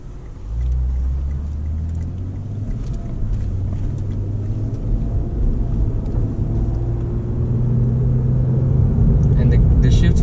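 A Lexus IS350 F-Sport AWD with a six-speed automatic accelerating from inside the cabin, a low engine drone rising in pitch with a subtle gear change, while someone talks over it.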